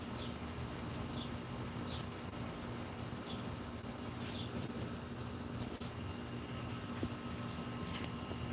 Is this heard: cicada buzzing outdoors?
yes